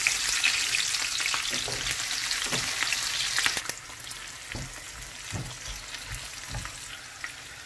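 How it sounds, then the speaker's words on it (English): Onions frying in hot oil, a loud steady sizzle for the first few seconds that drops to a quieter crackle, with soft stirring taps and scrapes punctuating the later part. "Our oil is hot, so we are going to add our onion."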